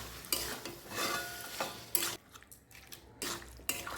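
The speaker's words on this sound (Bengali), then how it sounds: "এখানে আমি দিয়ে দেবো ম্যারিনেট করা চিকেনটা। চিকেনের সঙ্গে এখন সব কিছু ভালো মতো আমি মিশিয়ে নিচ্ছি।" A spoon scrapes and stirs marinated chicken with spices in a pan over a low flame, close by, with quiet sizzling and intermittent metallic clinks, no voices.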